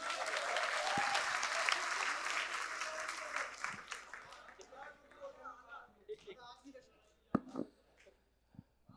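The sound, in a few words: audience applause after a poetry recitation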